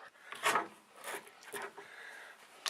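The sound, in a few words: screwdriver prying pressed-out bushing sleeve from C4 Corvette spindle support rod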